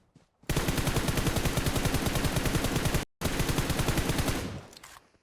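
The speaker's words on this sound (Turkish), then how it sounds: "Mermim bitene kadar sıktım ha." Sustained automatic gunfire in the PUBG Mobile video game: a loud, steady machine-gun burst of evenly spaced shots for about two and a half seconds, a brief gap, then another long burst that fades out.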